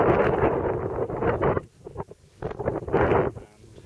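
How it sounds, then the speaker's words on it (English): Gusts of wind blast against the microphone in two loud bursts separated by a quieter lull, rough and close. "It's windy."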